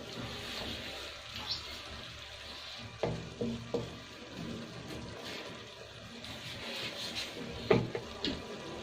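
Potato and spinach for aloo palak fry and get stirred in a pan, giving a steady, soft sizzle with occasional scraping clinks of a utensil, close and fairly quiet throughout.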